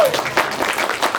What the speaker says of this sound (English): Can we once again give our applause, please?